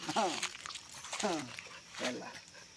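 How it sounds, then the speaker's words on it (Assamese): A dog barks or yelps three times in short bursts, close by, with a person talking underneath. "মোৰ দুটা কুকুৰ পুহি আছোঁ"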